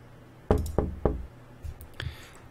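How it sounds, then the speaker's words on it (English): Three sharp knocks on a door in a steady rhythm, close and distinct, followed by a few fainter small taps and rustles in a quiet room. "This next one is someone knocking on a door."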